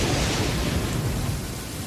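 Steady rain in the video game Genshin Impact, a dense, even hiss that fills the whole moment at constant loudness with no break and no voices.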